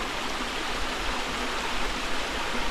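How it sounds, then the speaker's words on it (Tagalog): Steady rushing water pours continuously, a broad hiss with a low rumble, like a small waterfall heard close by with no other sounds. "Tingnan nyo po yung ating falls"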